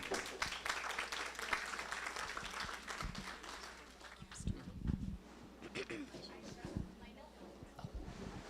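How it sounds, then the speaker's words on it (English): Applause from an audience, dense clapping that fades into a quieter room with scattered voices and a few louder claps toward the end. "And again, a round of applause."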